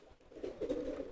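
A domestic pigeon recovering from illness gives a short, low cooing call (giring), soft and close, heard alone.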